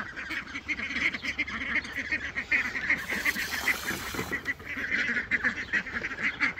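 A flock of waterfowl honks and quacks continuously nearby, a busy overlapping chorus with a brief splash of water in the middle.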